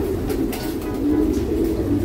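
Pigeons in a raised-floor loft give a steady low cooing murmur, close and continuous over soft background noise.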